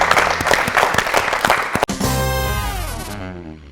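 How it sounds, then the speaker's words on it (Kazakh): A studio audience at a TV quiz show breaks into brisk, crowded applause for a couple of seconds, then it cuts to a sustained musical sting that fades out. "Шапалақтап қойыңыздар."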